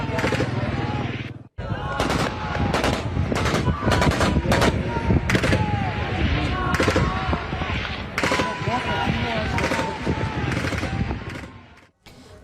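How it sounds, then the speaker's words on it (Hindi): Gunfire from soldiers firing on unarmed people in Pakistan-occupied Kashmir: repeated sharp bursts and single cracks in rapid irregular succession, loud and echoing, with crowd noise beneath. "फायरिंग की आवाज भी सुनी जा सकती है"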